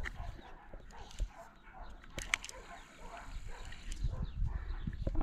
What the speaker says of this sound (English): I hope the neighbor's dogs calm down a little bit here in the near future